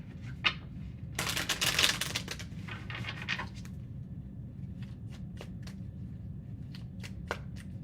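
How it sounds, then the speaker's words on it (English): Tarot cards shuffled by hand in a dense riffling burst, then lighter scattered card taps and flicks, close and fairly quiet over a low background hum. "Last shuffle."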